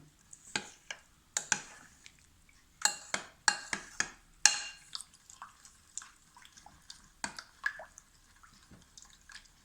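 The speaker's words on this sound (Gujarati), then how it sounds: "હવે આને સરસ રીતે આપણે મિક્સ કરી લઈશું મિશ્રણને, જેમાં લમ્સ ના પડવા જોઈએ" Khandavi batter is stirred in a bowl until smooth and lump-free: soft wet swishes broken by irregular light clinks of the spoon against the bowl, quiet and close, with no talking.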